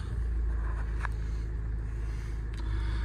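Diesel 2.2 CRDI engine of a 2010 Kia Sorento automatic 4x4 idling steadily, a smooth, continuous low rumble heard close with no revving.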